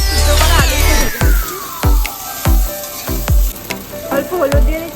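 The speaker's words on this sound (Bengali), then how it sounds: "ওই তেলে আগে থেকে সিদ্ধ করা আলুটা ভেজে নিচ্ছি।" Boiled potatoes fry in hot oil in a kadai, a steady sizzle under a regular run of scraping spatula strokes about every half second, fairly close and loud.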